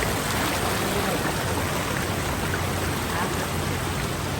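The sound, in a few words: fast-flowing stream water near a waterfall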